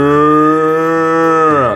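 A cow gives one long, loud, close moo with a steady drawn-out tone that bends at the end, heard alone without talk.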